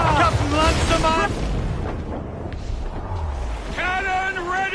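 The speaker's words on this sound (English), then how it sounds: "Cannon ready! Fire!" Ship cannons fire in the pirate video game Assassin's Creed 4, deep booming blasts rolling under a crew's shouted orders and a steady roar of sea and wind.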